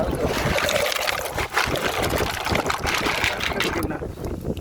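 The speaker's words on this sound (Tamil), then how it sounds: "ஏரா மட்டிக்கல் வந்து அவிக்கிறோம் அலசுறீங்களா ஆமாம்" Clams are swished and rinsed in water in an outdoor cooking setting, with a steady close splashing and trickling wash running throughout as people talk.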